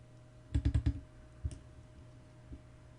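Computer keyboard and mouse at a desk: a quick burst of four clicks, then a couple of isolated taps, close and crisp against a quiet room.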